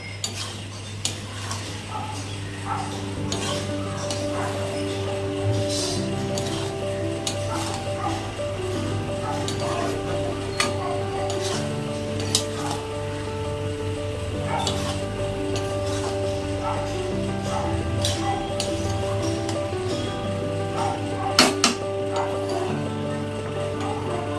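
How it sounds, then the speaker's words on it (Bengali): Prawn curry being stirred in a pot, with a spoon clinking and scraping against the metal in scattered taps over a steady low hum of the stove; sharper clanks near the end fit the lid going on. "নাড়াচাড়া করে আবার অল্প ঢাকা দিয়ে রাখবো।"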